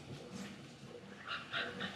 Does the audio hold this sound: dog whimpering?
yes